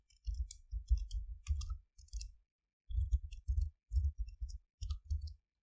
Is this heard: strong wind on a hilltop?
no